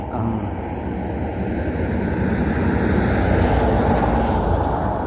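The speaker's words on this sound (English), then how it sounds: "Now you can't hear me, the truck coming along here." A truck rolls along a road in the Eastern Cape countryside, a broad, steady low rumble that swells as it nears and stays loud to the end, with no talking over it.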